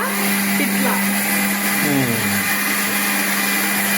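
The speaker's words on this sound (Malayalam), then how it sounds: "ഇനി ഇതൊന്ന് അരക്കട്ടെ കേട്ടോ നല്ലപോലെ അച്ചെടുക്കാം" A mixer grinder whirs with a steady high-pitched motor hum throughout, a voice briefly speaking over it partway through.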